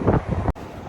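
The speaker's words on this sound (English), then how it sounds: "it is windy as hell" Strong winter wind buffets the microphone outdoors on a freezing campus, a loud rushing gust that cuts out abruptly halfway, then continues more softly.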